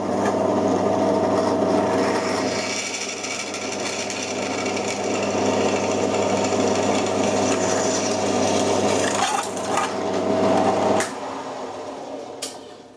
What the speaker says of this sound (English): The stainless steel, you've got to make sure you drill the hole